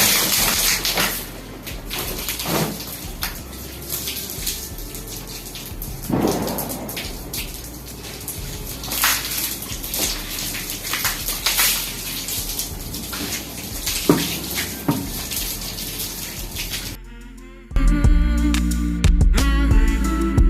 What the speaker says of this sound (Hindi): तो बाल्टी भर के ले ली थी और जो सबसे ऊपर की पैड़ी है वहाँ से डालना शुरू करूँगी।